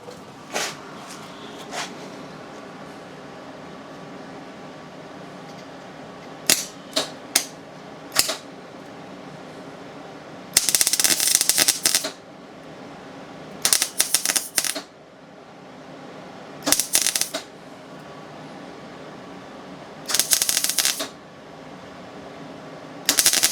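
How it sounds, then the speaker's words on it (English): Welding on a 1972 VW Super Beetle: several bursts of harsh crackling buzz, each lasting about a second, separated by quiet gaps with scattered clicks and taps, close and loud. "a little bit of welding right here."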